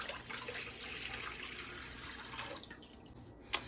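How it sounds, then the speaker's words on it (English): Water poured into a pot on a stove, a steady, fairly quiet splashing stream that thins out near the end, finished by one small sharp clink. "We're going to add the water to the pot."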